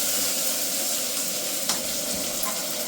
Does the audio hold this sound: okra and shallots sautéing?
yes